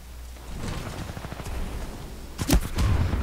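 An automated turret firing in Titanfall 2, a rapid stutter of gunshots under background game noise, ending in a louder, sharper burst near the end with a heavy low rumble.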